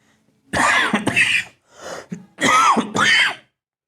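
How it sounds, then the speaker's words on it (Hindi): Several harsh coughs in two bursts with throat clearing between them, close and loud, with quiet pauses around them. "थोड़ा खांसी हो गया है।"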